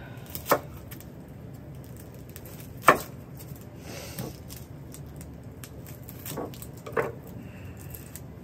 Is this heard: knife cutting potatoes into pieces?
yes